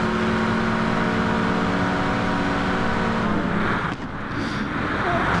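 Touring cars race side by side down the start-finish straight at Monza in an online racing game, their engines droning loud and steady with a sustained high whine and a brief dip as they pass.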